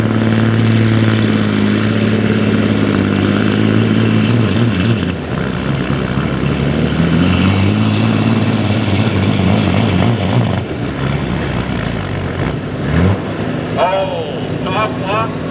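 A semi truck roaring at full power during a truck pull competition, a loud, dense engine drone with shifting pitch that dips and strains, continuous for the whole span, with announcer-style talk over it.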